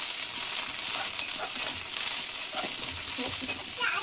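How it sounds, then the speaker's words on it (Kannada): Masala for mutton leg soup, with coriander and mint added, frying in a pan, a steady close sizzle with occasional stirring clinks and a faint voice in the background. "ಈಗ ಒಂದು 5 ನಿಮಿಷ ಚೆನ್ನಾಗಿ ಫ್ರೈ ಆಗೋಗಂಟ ಫ್ರೈ ಮಾಡ್ಕೋಬೇಕು."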